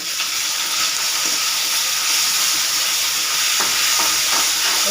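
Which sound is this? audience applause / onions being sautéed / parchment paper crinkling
onions being sautéed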